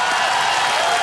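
A dense, continuous roar of applause comes from the studio audience of a televised quiz show, loud and close.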